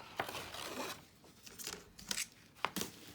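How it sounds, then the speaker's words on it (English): Scissors snip through paper in a handful of quick, quiet cuts with small rustles between them, close by and with no talking. "why don't I just use my scissors?"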